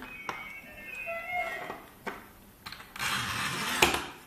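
Glass cutter scoring a piece of glass, then the sheet being snapped and cut: a thin scratchy score line followed by a few sharp clicks and a brief crisp crack, close and fairly quiet.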